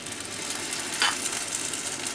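Fritter batter spooned into an oiled frying pan gives a continuous, even sizzle with one brief scraping tap of the spoon partway through; no one speaks.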